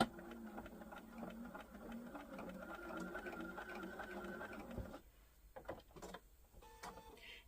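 A sewing machine stitches quilt fabric pieces together along a quarter-inch mark, a fast steady whirring run that stops, followed by scattered clicks and handling noises.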